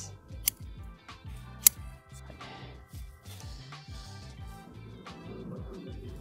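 Pruning shears cut plant stems in a series of close, crisp snips and small clicks, with two sharp peaks among the softer cuts and quiet rustling between them.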